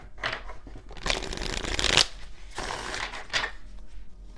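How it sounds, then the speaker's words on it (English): A deck of tarot cards is shuffled up close in quick riffling bursts, with crisp papery flutters and taps coming in two or three rapid sequences and brief pauses between them. "Let's do one more shuffle just in case."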